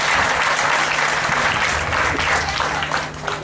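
A school audience at a parents' association event claps steadily and loudly for several seconds. The applause is dense and continuous, with a crowd murmur underneath, and fades slightly at the end.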